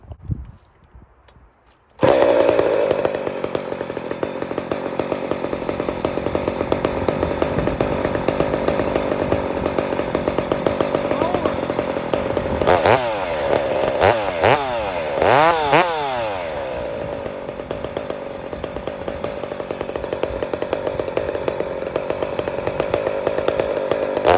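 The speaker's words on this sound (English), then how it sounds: "This is a 390 cylinder on a 372, okay? Now, listen to the difference of the muffler instantly" A Husqvarna 372 chainsaw fitted with a 390 cylinder and an aftermarket muffler starts up and idles loudly with a raspy, steady drone, revving up and down several times midway before settling back.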